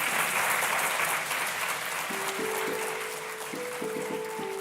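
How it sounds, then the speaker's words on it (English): An audience applauds a returning guest speaker at a university arts and humanities open evening, with steady, dense clapping filling the room throughout and a faint tonal note rising in the background near the end. "So a round of applause, please."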